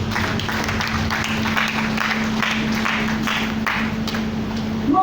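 Church congregation clapping for Jesus during a sermon, a steady rhythmic run of claps under a constant low hum, moderately loud throughout.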